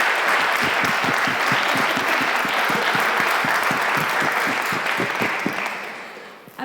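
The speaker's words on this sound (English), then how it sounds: "Can I get a round of applause for our local specialists working tirelessly?" Lecture attendees give a round of applause for local specialists, a sustained even crowd clapping that holds steady then fades out near the end.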